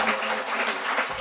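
An audience at a Chicago legal forum applauds the panelists. The clapping is dense and steady, filling the room for a brief moment.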